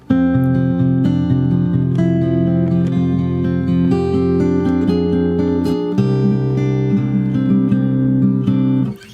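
A short descending scale on fingerstyle acoustic guitar, from the ending of The Mandalorian theme, with plucked notes over ringing bass strings played evenly and close, stopping abruptly at the end.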